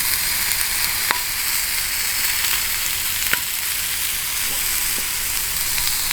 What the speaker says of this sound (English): that sound of sizzling shrimp on the grill